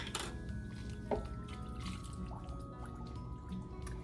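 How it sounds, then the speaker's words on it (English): Tomato sauce gets rinsed out of a can and poured into a pot of lasagna soup, heard as close, steady liquid splashing and dripping with a small clink, and no one talking. "we're just gonna shake that up in there and get all that tomato juice, tomato sauce out of there"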